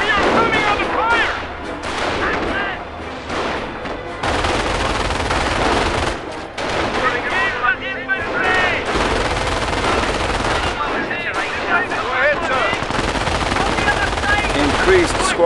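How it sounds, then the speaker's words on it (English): Machine-gun and rifle fire rattle almost without pause in a World War II-style video game battle between German and Commonwealth forces, with artillery booms and shouted unit callouts mixed in. "We are coming under fire!"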